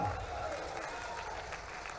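Audience at a government ceremony in Guna gives a brief burst of applause, a soft, dense wash of clapping heard from a distance for about two seconds.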